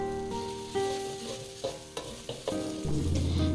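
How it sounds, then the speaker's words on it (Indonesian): Ingredients for sayur lodeh sizzle in a hot pan as a utensil stirs them, with several sharp scraping strokes over steady frying crackle and no talking. "Selanjutnya kita tumis kembali hingga benar-benar tercium harumnya dan juga matang."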